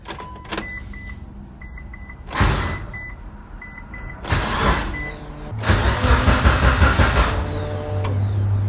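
A Mitsubishi Evo 8 tuned to about 600 whp, with an upgraded fuel system, cranks in several short bursts before catching and settling into a steady, close, rumbling idle.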